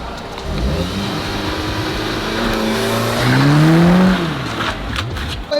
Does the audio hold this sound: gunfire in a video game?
no